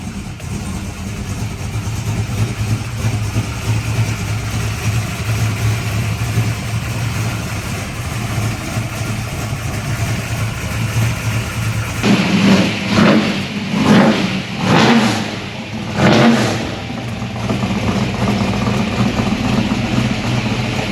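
A 1967 Ford GT Falcon V8 with a stainless steel exhaust idles loudly and lumpily up close, then is blipped through several quick throttle revs before settling back to idle.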